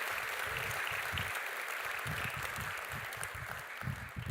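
Applause from a university graduation audience sends off musicians leaving the stage, a steady, soft and somewhat distant patter of many hands that holds throughout.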